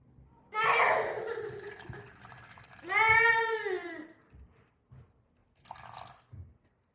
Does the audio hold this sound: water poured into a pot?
yes